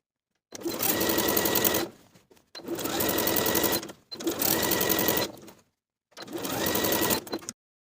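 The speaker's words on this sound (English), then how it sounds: "we're going to edge stitch close to the upper inner fold all the way around" Four separate runs of a sewing machine edge stitching close to the inner fold of a blouse hem, each a loud, steady whir of a few seconds with short silent pauses between.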